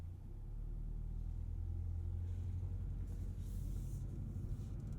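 A 2022 Kia K5 GT engine rumbles low and steady as the car shifts into drive and pulls away, a continuous close hum without speech.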